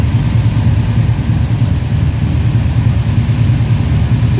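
An all-aluminum Pontiac 522 cubic inch street engine runs loud and close, rumbling steadily off idle with a deep, even throb.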